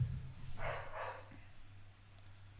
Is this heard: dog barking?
yes